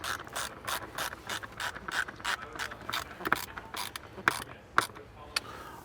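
Rapid ratchet clicking as a bolt is driven in by hand during a blower motor install on a 2003-2014 Volvo XC90, steady close clicks in bursts with a few sharper metallic knocks toward the end.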